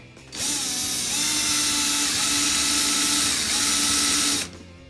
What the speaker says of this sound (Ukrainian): Так, як ви бачите, воно сверлить дуже добре.